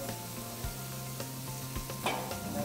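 Pre-boiled chicken for biryani sizzles steadily in a pan while being stirred, with occasional scraping knocks of the spoon over the constant frying hiss.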